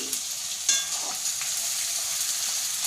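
Edible gum (gond) frying in hot pure ghee over high flame, a steady dense sizzle with a brief crackling burst early on, close and continuous with no talking.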